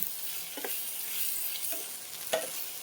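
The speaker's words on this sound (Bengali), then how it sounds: "হলুদ নুন দিয়েই ভাজবো আর কি এটা" Food frying in a pan with turmeric and salt, a soft continuous sizzle broken by a few stirring scrapes, close and moderately loud with no talking.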